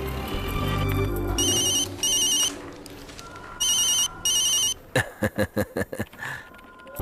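A telephone rings in bursts of a bright electronic ringtone, two repeating pairs of rings separated by gaps, followed by a run of short sharp clicks, with no talking.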